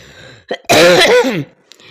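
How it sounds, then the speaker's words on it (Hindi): A single harsh cough bursts out close by, preceded by a short throaty catch, then quiet. "तब मुझे न जाने खांसी कहाँ से आ जाती है"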